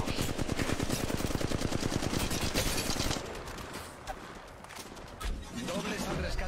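Automatic gunfire in Apex Legends Mobile, a fast continuous burst of shots for about three seconds, then quieter scattered action noise with voices underneath.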